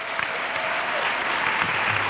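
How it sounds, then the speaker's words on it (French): A congregation at a French and English church service claps for Jesus. The applause is a sustained, fairly loud burst of many hands clapping together. "Let us clap for Jesus."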